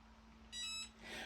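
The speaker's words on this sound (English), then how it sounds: "you just heard the beep, which means the mug is now complete" A mug heat press timer beeps once, short, clear and steady, followed by a faint softer tone against a quiet background.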